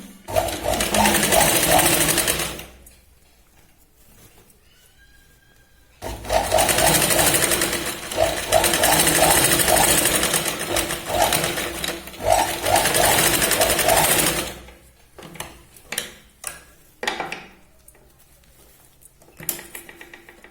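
An electric sewing machine stitches a katori blouse, running in two close, loud rattling bursts of a few seconds each with pauses between, followed by scattered clicks and handling noises; a voice speaks in the gaps.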